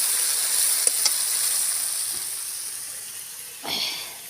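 Well-fried masala paste sizzles in oil for katla kalia with a steady, bright hiss, a couple of faint taps, and a brief louder burst of sizzling near the end.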